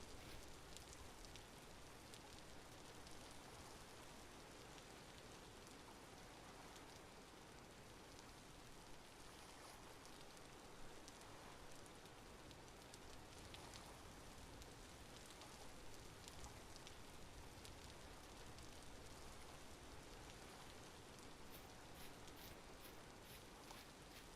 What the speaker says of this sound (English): I got confused there because I can hear rain outside.